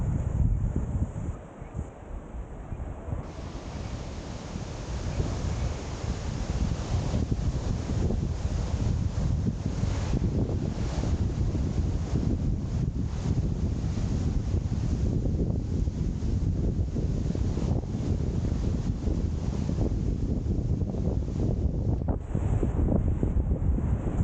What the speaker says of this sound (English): The waves are really crashing up on the rocks to our left.